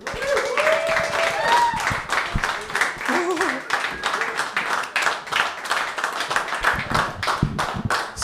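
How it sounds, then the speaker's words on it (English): Audience at a live comedy open mic claps steadily for about eight seconds, a dense, loud wash of hands with a few whoops and voices mixed into the crowd. "Everyone get your clappers clapping for George."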